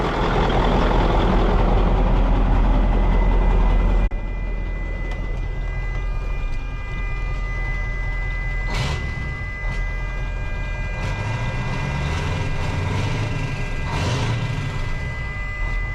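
A Mack CL713 E9 V8 truck engine, a 500 hp powerhouse, runs at a steady idle with a constant low rumble and a continuous hum that drops slightly in level after a few seconds. A few faint knocks sound in the background.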